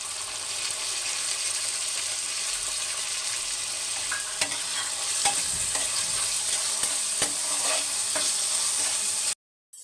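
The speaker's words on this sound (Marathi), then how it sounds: "आता माझा कांदा टोमॅटो परतून झालेला आहे." Onion and tomato sautéing in a pan for restaurant-style lasuni methi, a steady close sizzle with repeated scraping and stirring clicks from a spatula, continuous throughout and ending abruptly.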